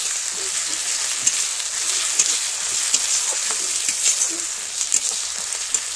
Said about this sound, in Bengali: এটা দিয়ে কষিয়ে নেব মশলাটাকে ভালো করে